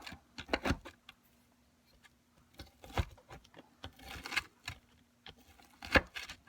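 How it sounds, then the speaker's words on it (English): Leftover sliced ham is chopped into chunks: irregular bursts of soft, close knocks and taps with quiet gaps between them, over a faint steady hum. "Let me chop up some ham"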